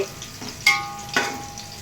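Coriander, mint and green chilies sizzle in hot oil for chicken biryani, a steady low frying hiss with two sharper bursts as ingredients hit the pan, close and moderately loud with no talking.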